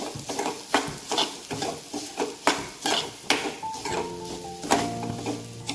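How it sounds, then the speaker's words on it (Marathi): Grated coconut sautéed with roasted dalia for a kheer, heard as a brisk, regular run of spoon scrapes and clinks against a pan over a low sizzle, close and fairly loud throughout. "यामध्ये आपण एक खोबरं घालूया तेही थोडंसं याच्याबरोबर परतून घेऊया"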